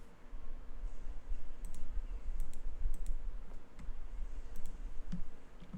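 Computer keyboard keys being pressed to enter a number, a few light scattered clicks over a steady background hiss, close but quiet.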